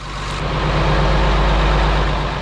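A boat engine kept running by warming it with a heat gun, a loud, steady low rumble that fills the whole stretch close up with no break, with no talk over it.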